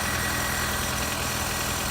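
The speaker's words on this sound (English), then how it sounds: "Here's the engine." A 2007 Nissan Sentra engine idles steadily with the hood open, a constant low hum with faint vibration and no voices.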